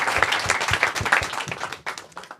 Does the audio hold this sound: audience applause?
yes